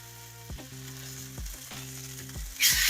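Chicken pieces searing in a hot pan, a steady sizzle with a loud hiss rising at the very end, and a low electronic hum running beneath.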